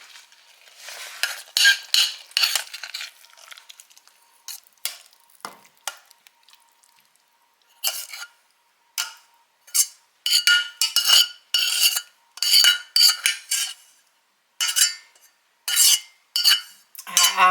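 Leftover beef roast mixture with heated vegetables spooned into a ramekin: a series of short scraping and clinking spoon strokes against the dish, bursts in quick clusters separated by brief pauses, close and clear with no talking.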